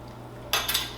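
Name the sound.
mixing cocoa powder into pound cake batter by hand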